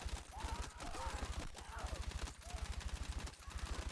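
Submachine gun fire in the video game Battlefield 6, rapid continuous automatic bursts heard quietly in the background under someone talking.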